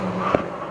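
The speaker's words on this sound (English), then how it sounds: "as the cars come through Hall Bends" Mazda MX-5 race cars in the BRSCC championship at Cadwell Park sweeping through Hall Bends, a short burst of engine roar and passing whoosh at moderate distance with a brief peak.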